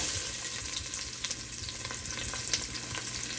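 Chopped onion sizzles and crackles in hot oil in a pan as shrimp fried rice is being cooked, a steady close frying hiss with the occasional stir and no talking.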